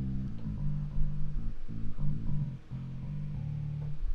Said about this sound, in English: I'm going to use the fingerstyle bass right now.